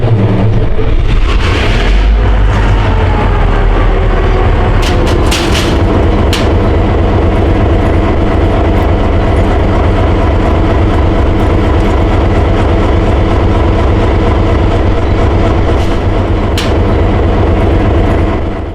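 A South Shore freight train, the East Chicago turn, runs loud and near on the CSX Barr subdivision, its locomotive engine droning heavily under rhythmic wheel clatter and a few sharp metallic bangs.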